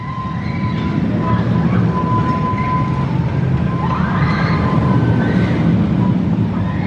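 An amusement park train ride at Blackpool Pleasure Beach runs at night past the Infusion coaster, a loud continuous rumble from close by with faint whining tones and squeals drifting over it.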